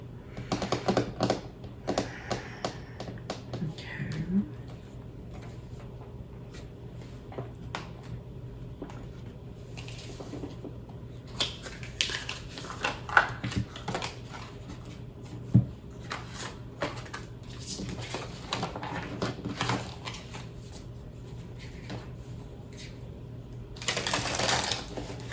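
Tarot cards being shuffled and drawn, a run of soft riffling clicks and light taps that come in bursts and pauses, close by and fairly quiet.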